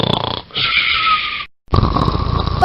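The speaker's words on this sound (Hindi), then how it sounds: "दादाजी इतने जोर जोर से खर्राटे भरते हैं" A grandfather snoring loudly while asleep, with two long, rasping, throaty snores that rattle close to the ear, split by a brief breathless pause before the next snore begins.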